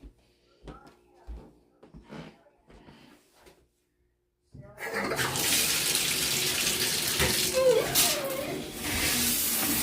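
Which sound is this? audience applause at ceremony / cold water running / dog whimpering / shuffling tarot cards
cold water running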